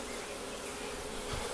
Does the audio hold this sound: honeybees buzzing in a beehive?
yes